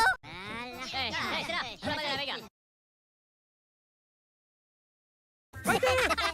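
A goose honks in a rapid run of nasal, harmonic calls, loud and close. After a few seconds of silence, a final burst of honking follows, with no talking around it.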